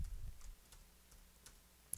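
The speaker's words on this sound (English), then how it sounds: "I'm just going to type in the default HTML stuff here" Quiet clicks of typing on a computer keyboard, a few scattered soft keystrokes with gaps between them, close and faint.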